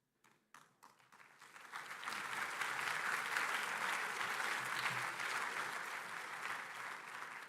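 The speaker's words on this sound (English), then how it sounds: "Give them another round of applause, to all of them" An auditorium audience at an international astronautical congress applauds the awardees, a few separate claps swelling quickly into steady, sustained clapping from a large crowd that carries on without pause.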